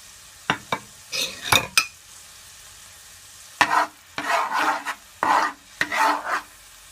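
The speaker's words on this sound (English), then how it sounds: "Then I'm gonna add my garlic and my ginger. And I'm gonna leave it for at least 3 minutes to saute." Garlic and ginger sautéing in a pan for Korean honey butter fried wings, heard as a series of short scraping stirs and sizzling bursts, two clusters separated by a pause, close and fairly loud with no talking.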